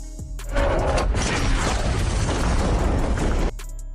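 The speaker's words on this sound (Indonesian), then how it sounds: "sang kapten langsung menembaknya." A loud, sustained blast from a captain firing a gun at a monster in a film scene, cutting in sharply after a quiet start, roaring for about three seconds, then dropping away abruptly.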